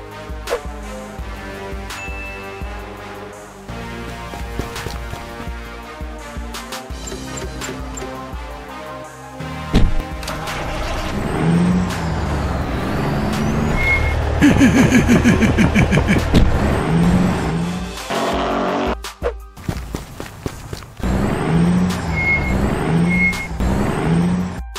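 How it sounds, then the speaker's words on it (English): A tow truck in a Lego city police stop-motion brickfilm rumbles and idles. Its engine rises and falls, and loud air brake hisses and squeaks repeat over about twenty-five seconds, with no talking. "I need a tow truck, man."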